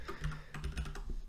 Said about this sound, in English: So we just simply start typing